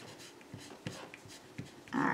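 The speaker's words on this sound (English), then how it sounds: "let me erase all this." A board eraser rubbing across a writing board during a math lesson, heard as short soft scrubbing strokes and light taps, close and quiet, ending in a louder burst of wiping.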